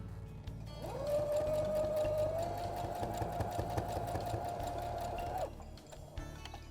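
A sewing machine runs a straight seam on fabric in one steady, fast mechanical whir lasting about five seconds, close up, with clicks at the start and stop.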